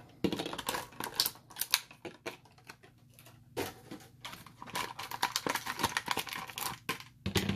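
Splatoon figures being taken out of plastic blister packs: crinkling, snapping plastic and small clicks come in bursts, close and crisp, with short pauses between handling sounds.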